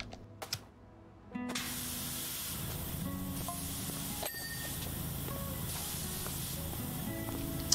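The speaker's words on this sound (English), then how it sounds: "I want to spray the whole thing off." A pressure washer spraying a car in PowerWash Simulator, a steady broad hiss of water jet that starts abruptly after a few faint clicks and runs continuously to the end.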